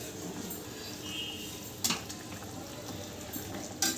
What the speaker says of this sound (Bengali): এই ঝোলটা ফুটতে শুরু করেছে